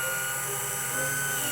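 A power drill fitted with a 1/4 inch bit boring a hole for a homemade suction cup mount, a loud continuous whine holding steady for the whole short stretch with no voices.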